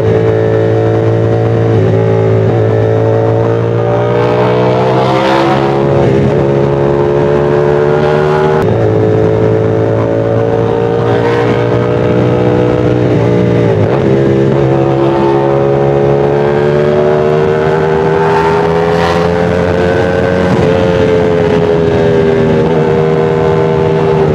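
A Yamaha 450SR motorcycle engine drones loudly while riding toward Tagaytay, a steady close roar whose pitch rises and dips with gear changes and throttle, with wind rushing throughout.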